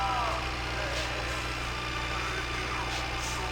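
A tractor engine idles steadily and close in the My Winter Car video game, a constant low rumble that runs throughout with no break.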